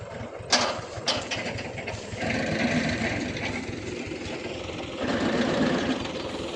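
An old tractor's mid-pitched engine chugs steadily at idle throughout, its rhythmic throb close by and fairly loud, with no voices.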